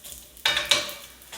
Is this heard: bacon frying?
yes